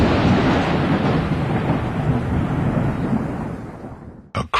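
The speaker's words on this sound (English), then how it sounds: "A crack of thunder stopped Twilight in her tracks and drew her eyes skyward" A long, loud rumbling crack of thunder rolls on continuously for about four seconds, then cuts off abruptly, leaving a couple of brief sharp noises at the end.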